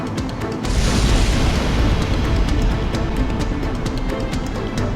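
Cannon fire in the Ace Combat X flight game, mission 15A, a heavy booming blast that swells into a loud, sustained rumbling roar lasting several seconds, with no voices.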